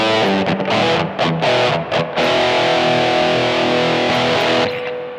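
An electric guitar set to a thick, fuzzy distortion through a BOSS eBand plays a loud, saturated riff with reverb: choppy chords at first, then a long sustained ringing chord that fades at the end.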